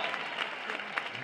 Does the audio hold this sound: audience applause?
yes